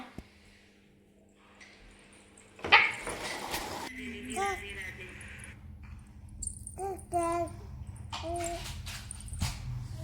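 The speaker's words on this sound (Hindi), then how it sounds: "रोता है, कुत्ता है।" A pet dog at home whimpers and cries in thin, wavering whines, mixed with short yips and indoor voices speaking around it.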